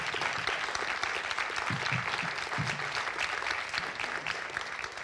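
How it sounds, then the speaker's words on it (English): A room full of people clapping for panellists at a regional conference, steady moderately distant applause sustained throughout with no talk over it. "I think a round of applause"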